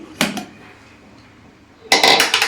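Lid lifted off a pot of cooked mutton fry, a brief metallic clank followed by a louder rattling clatter of the lid against the pot, close and distinct.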